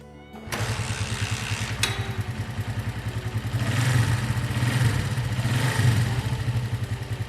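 An old vintage Honda motorcycle starts after a click and catches at once. The close, steady engine idle then rises slightly to a firmer, rougher run, with no talking.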